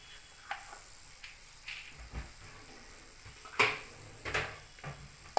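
Asafoetida sizzles in hot oil for a garlic onion tomato chutney, a faint hiss punctuated by a few sharp clicks and clinks of utensils against the pan.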